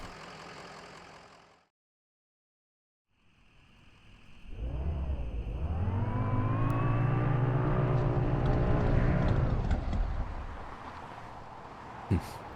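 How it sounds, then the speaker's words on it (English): A truck engine in Kentucky Route Zero sputters after a brief silence, then swells into a loud, rough drone with wavering tones for several seconds before cutting out, followed by a single sharp knock. "The truck's engine sputters and dies as Conway guides it carefully off the road to next to a fallen tree."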